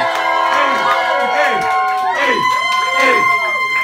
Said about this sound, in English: Give us all your respectful exuberance, your applause, your loud noises, your quiet noises, your shrieks, and whatever else you can do for Justyn!